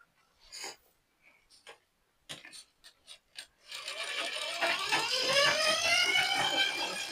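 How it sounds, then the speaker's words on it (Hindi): Sewing machine stitching blouse fabric: a few short, separate mechanical clicks and taps, then a loud continuous whirring, rattling run of stitching close by until the end. "इस तरह से सिलाई लगा लेनी है फिनिशिंग के साथ।"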